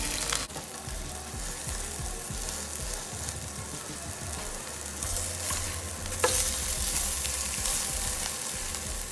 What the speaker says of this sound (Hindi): मैंने ग्रिल पैन में रख दी है, एक साइड से फ्राई हो जाएगी।